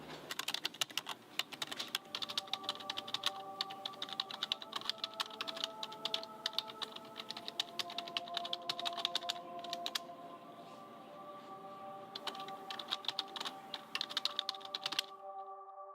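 Rapid, close typing on a computer keyboard, a dense run of crisp key clicks with brief pauses, steady throughout and not covered by any talk.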